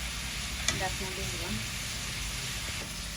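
Fish curry with surma fish, eggplant and potato fries in a pan, giving a soft continuous sizzle and stirring scrape under quiet talk nearby.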